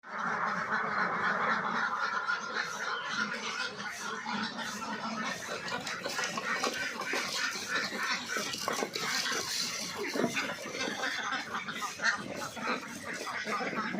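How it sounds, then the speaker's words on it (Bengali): About 250 egg-laying ducks on a duck farm quack and honk continuously in a dense, busy flock chorus, with a voice faintly present in the background. "এই খামারে দুইশো পঞ্চাশটা ডিম পাড়া হাঁস আছে"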